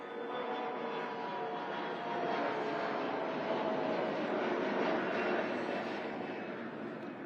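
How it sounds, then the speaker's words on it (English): Airplane taking off near Old Town Alexandria, a broad continuous jet roar that swells slightly and holds steady, heard from a distance at an outdoor groundbreaking with no talk over it. "I'm so glad the planes are taking off this direction"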